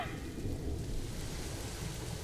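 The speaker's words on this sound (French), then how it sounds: "Bon, on va attendre qu'il arrête de pleuvoir." Rain falls in the Planet Zoo video game, a dense, steady hiss over a deep low rumble suggesting distant thunder, heavy and continuous throughout with no voices.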